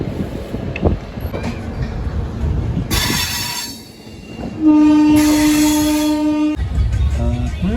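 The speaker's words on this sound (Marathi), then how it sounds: "काठगोदाम शताब्दी एक्सप्रेस पहिला स्टॉप हल्दवानी येथे पोहोचलेली आहे" The Kathgodam Shatabdi Express at Haldwani station, with rumbling railcars and squealing wheels, then a long loud sustained train horn blast nearby, and some faint talk in the background.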